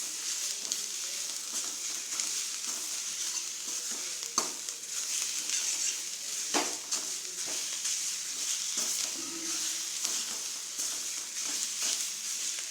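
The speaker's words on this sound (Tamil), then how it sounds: "அவரைக்காயில் அந்த சாம்பார் தூள் எல்லாம் மிக்ஸ் ஆகிற மாதிரி நல்லா வதக்கிக்கணும்." Broad beans sauté with sambar powder in a pan, giving a steady close-up sizzle with frequent scraping stirs and an occasional sharper knock, and no talking.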